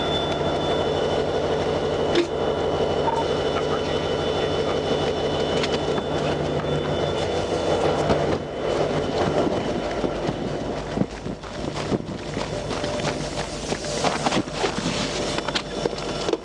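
A train passing at a Minnesota road crossing where it strikes a semi truck gives a steady, loud, broadband rumble that stays close throughout, with some rattling near the end.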